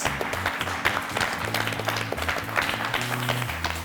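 Applause from a student audience at a university book-quiz contest between two teams, a dense, steady patter of many hands clapping with music playing underneath throughout.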